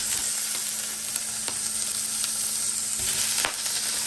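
Marinated pork adobo sizzles steadily in a pan, a continuous soft frying hiss with a few faint clicks, heard close and alone.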